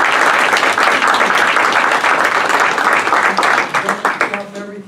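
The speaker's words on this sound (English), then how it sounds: "I'd like to applaud you." An audience applauds the fire department and surrounding fire companies with loud, dense clapping that holds steady, then thins into scattered claps as a voice begins speaking near the end.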